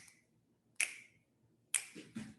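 Two crisp, close finger snaps about a second apart, clean and isolated against near silence, followed by a faint soft tap.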